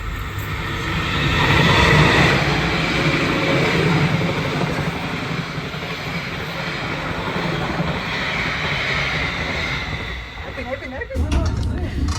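A business class passenger train running on the line near Krian station, a continuous close rumble and whoosh of the carriages in motion, steady throughout with a brief rattling clatter near the end.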